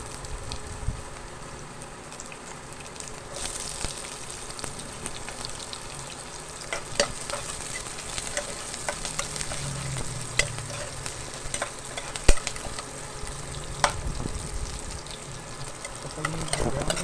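Onions sautéing in a pan before coconut milk and fish go in, a continuous crackling sizzle with scattered spoon clicks and scrapes, close and steady, no talking over it.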